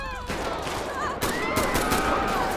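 Rapid gunfire bursts in the video game GTA V with the LSPDFR police mod, dense crackling shots running through the whole moment amid game sounds, with a voice talking over it.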